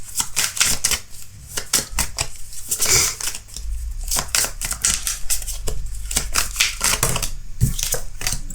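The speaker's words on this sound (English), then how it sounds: "let's pull your oracle cards" Oracle cards being shuffled and pulled for a pick-a-card tarot reading, a rapid run of crisp papery flicks and snaps with brief pauses, close and fairly loud, with no talking.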